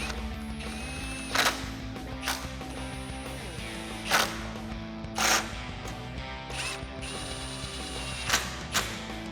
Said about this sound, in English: Grab your 10mm socket and tighten them down.